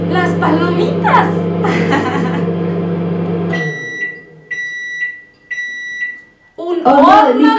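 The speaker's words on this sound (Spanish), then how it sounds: "Un horno de microondas." A person speaks, then a microwave oven gives a series of three clear, high electronic beeps before talking resumes.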